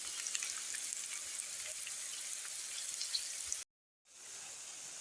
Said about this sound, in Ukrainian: Засмажка на борщ легенька, цибулька і моркотка на олії.